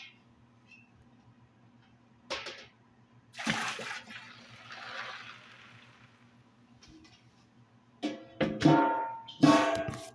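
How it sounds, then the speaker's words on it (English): Water splashes and trickles in short bursts, with a longer pour in the middle and louder splashy spurts near the end, against a low steady hum. "after I pour this water in"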